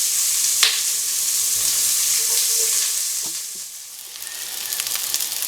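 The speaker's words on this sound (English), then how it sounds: "now we add our onion. Pan is really hot, so we've got to be careful." Onion hitting a very hot pan for German oxtail soup, giving a loud, continuous sizzle and hiss with a few light stirring clicks, no voices.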